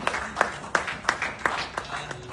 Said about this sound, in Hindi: तालियां रुकनी नहीं चाहिए सोहराब भाई के लिए